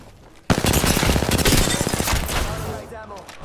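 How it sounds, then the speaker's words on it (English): Video game gunfire, a sudden dense burst of rapid automatic shots that keeps going for about two and a half seconds, loud and close, then tapers off. "Taking fire"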